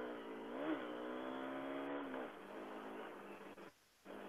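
A car's engine revs up hard as the throttle is opened, pitch climbing then holding a steady loud drone for a couple of seconds before easing off, with a brief drop near the end.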